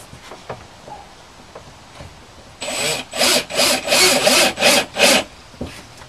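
Screws being driven into wood without pre-drilling while installing a Hatchlift Bedlift, a quick series of about seven rasping, grinding bursts in a row, close and clear with no talking.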